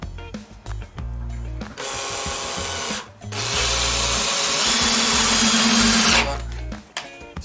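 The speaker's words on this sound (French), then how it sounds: "Je vais lui percer la tronche." Power drill with a 9 mm bit bores out a Solex 3800 carburettor, running loud and steady in close bursts with short pauses between, the pitch shifting as the bit bites into the metal.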